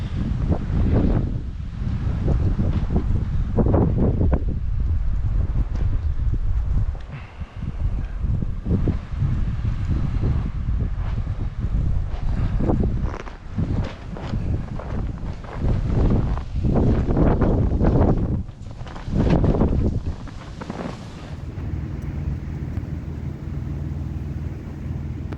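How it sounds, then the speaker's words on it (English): Strong blizzard wind in central Minnesota roars and buffets the microphone for the whole stretch, loud and continuous with repeated harder gusts and rumbling low-end bursts, no voices. "It's windy out."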